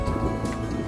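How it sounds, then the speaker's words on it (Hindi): Monsoon rain at Palna Dam near Jamshedpur comes down in a steady, dense hiss with a soft patter throughout a very short stretch, fairly close and unbroken. "बारिश शुरू हो गया है"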